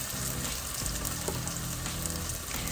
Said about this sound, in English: I'm going to go ahead on and stick all of these mushrooms in here and let that just cook down